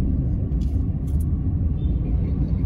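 Busy road traffic near Kalamba with cars and motorcycles, heard as a loud, steady low rumble of passing vehicles close by, no voices over it.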